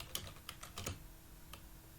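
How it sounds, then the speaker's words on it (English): Fingers typing a question on a computer keyboard, a quick run of light, close key clicks over a steady low background hum. "you will type the question here"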